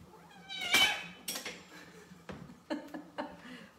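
A house cat in a home kitchen lets out a loud squall near the start, followed by fainter cries and clinks of dishes and cutlery, with a person talking in short bursts.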